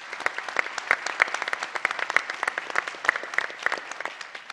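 Conference audience applauding, a dense close burst of many hands clapping with sharp individual claps standing out, steady throughout without speech.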